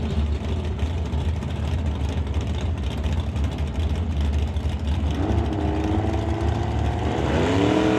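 Drag racing cars, including a Ford Falcon, roar down the track at a summit ET series event, a loud continuous engine blare with rising revving pitch toward the end, alone.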